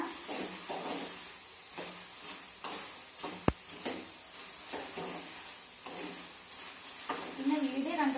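Jackfruit chips with turmeric frying in hot oil while being stirred, giving a steady hiss and sizzle with soft scraping strokes and one sharp clack, fairly faint throughout.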